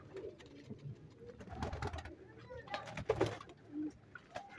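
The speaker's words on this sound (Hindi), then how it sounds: "ये दोस्तों एक पेयर है, ये रामपुरी मेल है और ये इंडियन फीमेल है।" A pigeon pair, a Rampuri male and an Indian female, coos softly and close by in a few low, throaty bursts over a quiet background.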